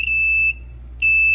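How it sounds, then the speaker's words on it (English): A grounded alarm buzzer on a trawler helm control panel, wired to a Perkins diesel, sounds a loud, piercing steady tone, cuts out for about half a second, then resumes. "This buzzer right here is grounded. I can simulate that here."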